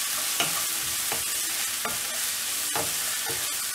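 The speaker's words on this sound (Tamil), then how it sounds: "நல்லா ஃப்ரை பண்ணணும்." Spinach kadayal frying in a pan, with a steady broadband sizzle and several sharp stirring scrapes of a spoon against the pan, all fairly close and with no talking.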